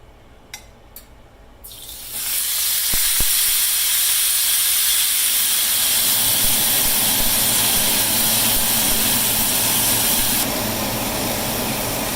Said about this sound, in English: we'll go ahead and oil the other side while it's searing on this side